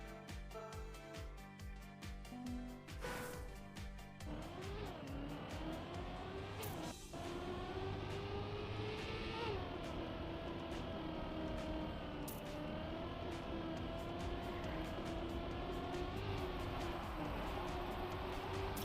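Roaring engines of race cars in a video game, revving and shifting continuously over music-like tones, loud and close with steady motor drone throughout.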